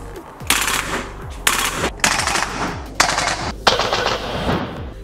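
A VFC MP7-A1 gas blowback airsoft gun fires in several sharp, loud bursts of rapid shots, each roughly a second long and separated by brief pauses, with no talking.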